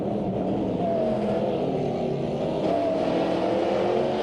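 Video-game race cars, a Honda Civic Type R and a Lexus RCF among them, drone steadily with a constant engine roar throughout, with faint tonal whines rising briefly on top; no talk.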